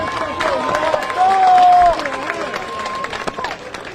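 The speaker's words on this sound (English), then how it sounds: "Let's get Grandmaster Jay another big round of applause." An outdoor rally crowd of the NFAC in Lafayette, Louisiana, claps and cheers for leader Grandmaster Jay, with scattered claps, shouts and voices mixing together at moderate loudness.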